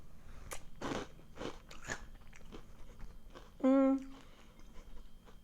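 Crunchy bites and chewing of H-E-B Cocoa Caramel Puffs cereal, close up, with several crisp crunches and a brief tonal hum partway through.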